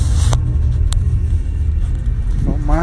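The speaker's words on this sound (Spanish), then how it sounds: "El carro." A car passes close by outside a Bodega Aurrera store with a loud, deep rumble that swells and then fades. A brief sharper noise sounds near the end.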